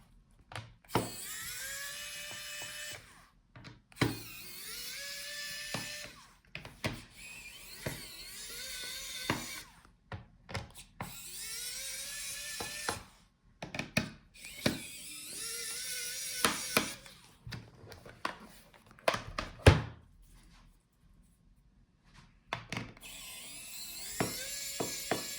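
A small electric screwdriver removes the bottom screws of a Lenovo ThinkPad P1 Gen 3 laptop in repeated short, whining bursts with brief pauses between them, close and fairly quiet, with faint clicks.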